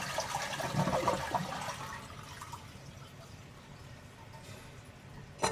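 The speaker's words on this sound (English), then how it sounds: "Then you want to drain all the water out of your tank." Water draining and gurgling out of a toilet tank during a flush while a running toilet valve is being replaced, strongest in the first two seconds and then settling into a quieter trickle and faint drips.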